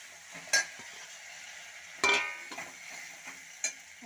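Spoon stirring sliced bitter gourd (karela) sautéing in a pan with turmeric, a few scraping strokes and soft scrapes over a faint steady sizzle, fairly close with no talk.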